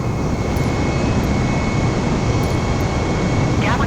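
Loud, steady roar of an Airbus A320neo's jet engines in Microsoft Flight Simulator, a dense, unbroken broadband rush with a faint high whine running throughout.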